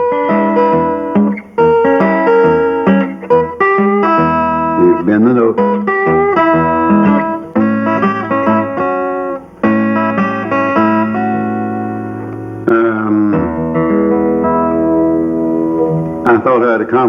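Bluegrass banjo picking a continuous rhythm that works a little diminished chord into the pattern, loud and close, with bright plucked notes ringing over steady strummed chords.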